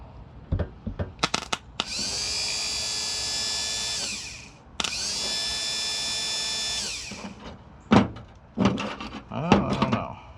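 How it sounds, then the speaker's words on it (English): A rebuilt Cub Cadet mower part spun up on a test run gives two sustained whirring bursts of a couple of seconds each with a steady high tone, separated by a brief pause and framed by close clunks and clicks of handling. "let's give it a test spin to kind of wear it in a little bit here"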